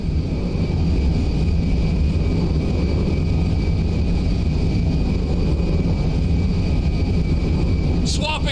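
A jet aircraft in the GTA 5 video game drones with a loud, steady engine roar and a high whine held throughout, ending in a brief sharp burst of noise.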